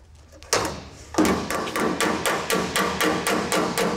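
Sharp metallic hammer blows on a 1979 Ford Bronco sheet metal panel backed by an egg dolly strike in a steady rhythm, about a dozen close, ringing taps following an opening thud.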